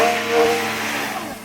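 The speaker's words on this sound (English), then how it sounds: "this car has two of the essential ingredients you need to make an exceptional noise. It's a V12 and it doesn't have any turbos." A 2024 Ferrari 12Cilindri with a naturally aspirated V12 and no turbos, heard as a brief, tonal engine hum that swells slightly and then eases off.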